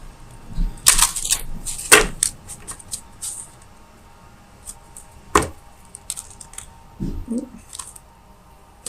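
Tarot cards being shuffled by hand, giving a few sharp, brief papery riffles and snaps spread across a quiet room, close and moderately loud with gaps between bursts.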